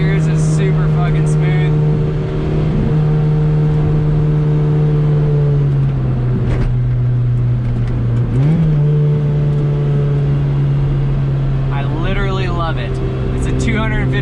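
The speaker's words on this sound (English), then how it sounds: "Running through the gears is super fucking smooth" Lotus Exige engine running steadily under load with a short shifter as it moves through the gears, a loud close drone that dips and rises at each shift, with occasional whirs over the top.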